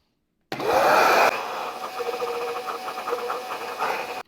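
A Bissell Max Pet portable carpet cleaner: loud motorized whine with hissing suction starts abruptly and keeps running steadily, with a brief burst of heavier airflow near the start.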